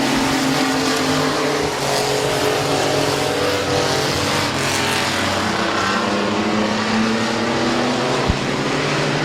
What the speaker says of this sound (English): Good racing up front in your mini truck heat race.